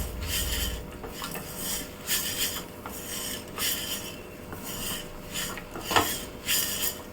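Greens being stirred and sautéed with lentils, pepper and garlic in a pan, the spoon scraping and clinking against the metal in irregular, moderately loud strokes with a faint background hum.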